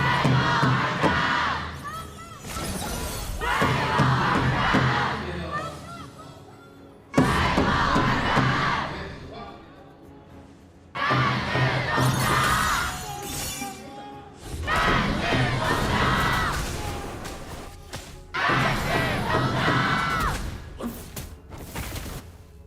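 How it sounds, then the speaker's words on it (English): A large crowd roars and chants at the KPL esports grand finals, in loud surging waves that break off abruptly and swell again. "let's pass it to the crowd to cheer for their teams"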